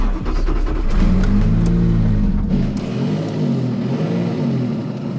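Totem Automobili Alfa Romeo restomod prototype with a V6, heard from inside on a drive: a loud, steady engine drone that drops in pitch partway through, as if shifting gears, then settles into a lower hum.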